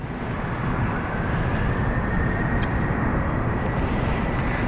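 Aircraft engine noise at Dublin Airport as a plane holds short of runway 28 right for departure, a steady broadband roar with a faint rising whine, continuous and fairly loud throughout with no talk.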